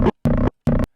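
A Tupperware container used as a kick drum sample, three short, dry thumps about a third of a second apart, each a brief, full-bodied knock played alone.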